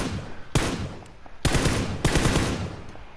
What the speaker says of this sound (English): When you're in fully auto mode, remember, burst fire.